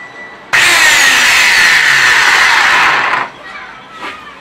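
A repaired STIHL string trimmer is test-run. Its loud, high, buzzing whine starts abruptly, holds steady for about three seconds and then cuts off, leaving faint background sounds.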